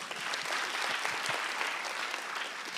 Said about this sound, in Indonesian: Tepuk tangan untuk Pak Dendro.